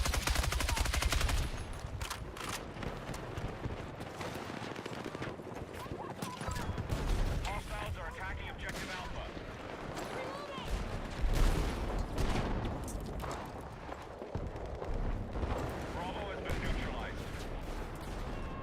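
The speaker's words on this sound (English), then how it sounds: "they've been obliterating this whole map with the tanks and explosives" Tanks and explosives in the Battlefield 6 video game rumble and crack as dense gunfire and blasts, steady and loud throughout, while players talk over it.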